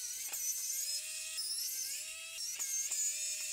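Small screwdriver work on a Logitech M720 mouse housing during a teardown: a faint, thin whirring whine with a few soft clicks, close-up and quiet.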